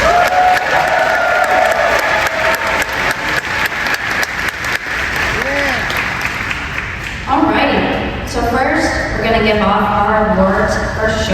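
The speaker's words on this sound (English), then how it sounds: "So one more round of applause for everybody." A crowd applauds and cheers at a cosplay competition, with clapping filling the first part before a voice speaks over the fading noise.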